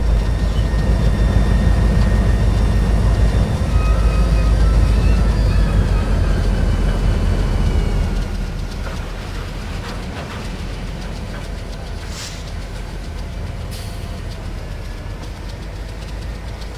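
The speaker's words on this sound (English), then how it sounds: "So we have our little Alco engine here." Alco diesel locomotive engine in Train Simulator 2019 on a Smoky Mountains log run, a steady heavy throbbing drone with tonal hum that drops to a quieter idle partway through, with a couple of faint clanks near the end.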